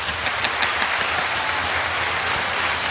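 A canned hand-clap applause sound effect triggered from a button, a steady crowd-like wash of clapping, even in level and fairly close, playing alone without talk.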